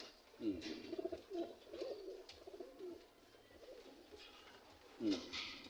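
Pigeons coo in a loft housing several kinds of domestic pigeon, their soft rolling calls rising in a few bursts near the mic amid a faint background murmur of the flock.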